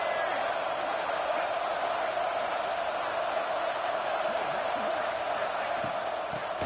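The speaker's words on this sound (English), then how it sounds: "And here comes the noise. This crowd is trying to inspire this defense to make a big red zone stop." A stadium crowd at a football game keeps up a steady, continuous roar as the defense faces a red zone stand. The noise stays even and mid-level throughout, with no distinct peaks.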